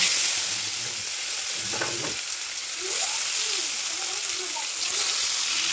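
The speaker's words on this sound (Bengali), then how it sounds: "মাছটা ভাজা হতে থাকে, একটু ঢেকে দেবো।" Fish frying in hot oil in a wok over low gas gives a steady broadband sizzle that runs throughout, with faint voices murmuring underneath and a brief clatter near the middle.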